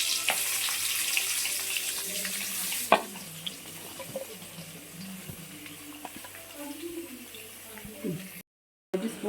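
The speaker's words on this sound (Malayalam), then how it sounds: "നമ്മൾ ഗ്രേവിക്ക് വേണ്ടി ഉള്ളി വഴറ്റുവാണ്." Onions sauté in a pan for a beef biryani gravy, giving a bright, steady sizzle for about three seconds before it drops to a quieter hiss with faint stirring clatter.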